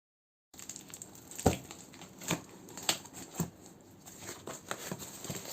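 A cardboard box of books is cut open by hand, with close, irregular scratchy slicing and crinkling sounds and several sharper ticks spread over a few seconds.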